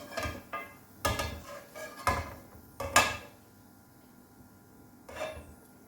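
Several sharp, crisp crunches and snaps of crispy fried potato fries at close range, separated by short pauses, with no talking.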